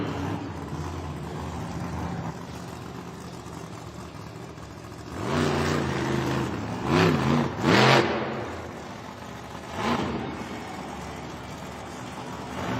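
Monster truck Mayhem at a Monster Jam stadium show in Cleveland, its engine droning, then surging in several loud revving bursts with a final shorter roar during a popper attempt, with crowd noise beneath.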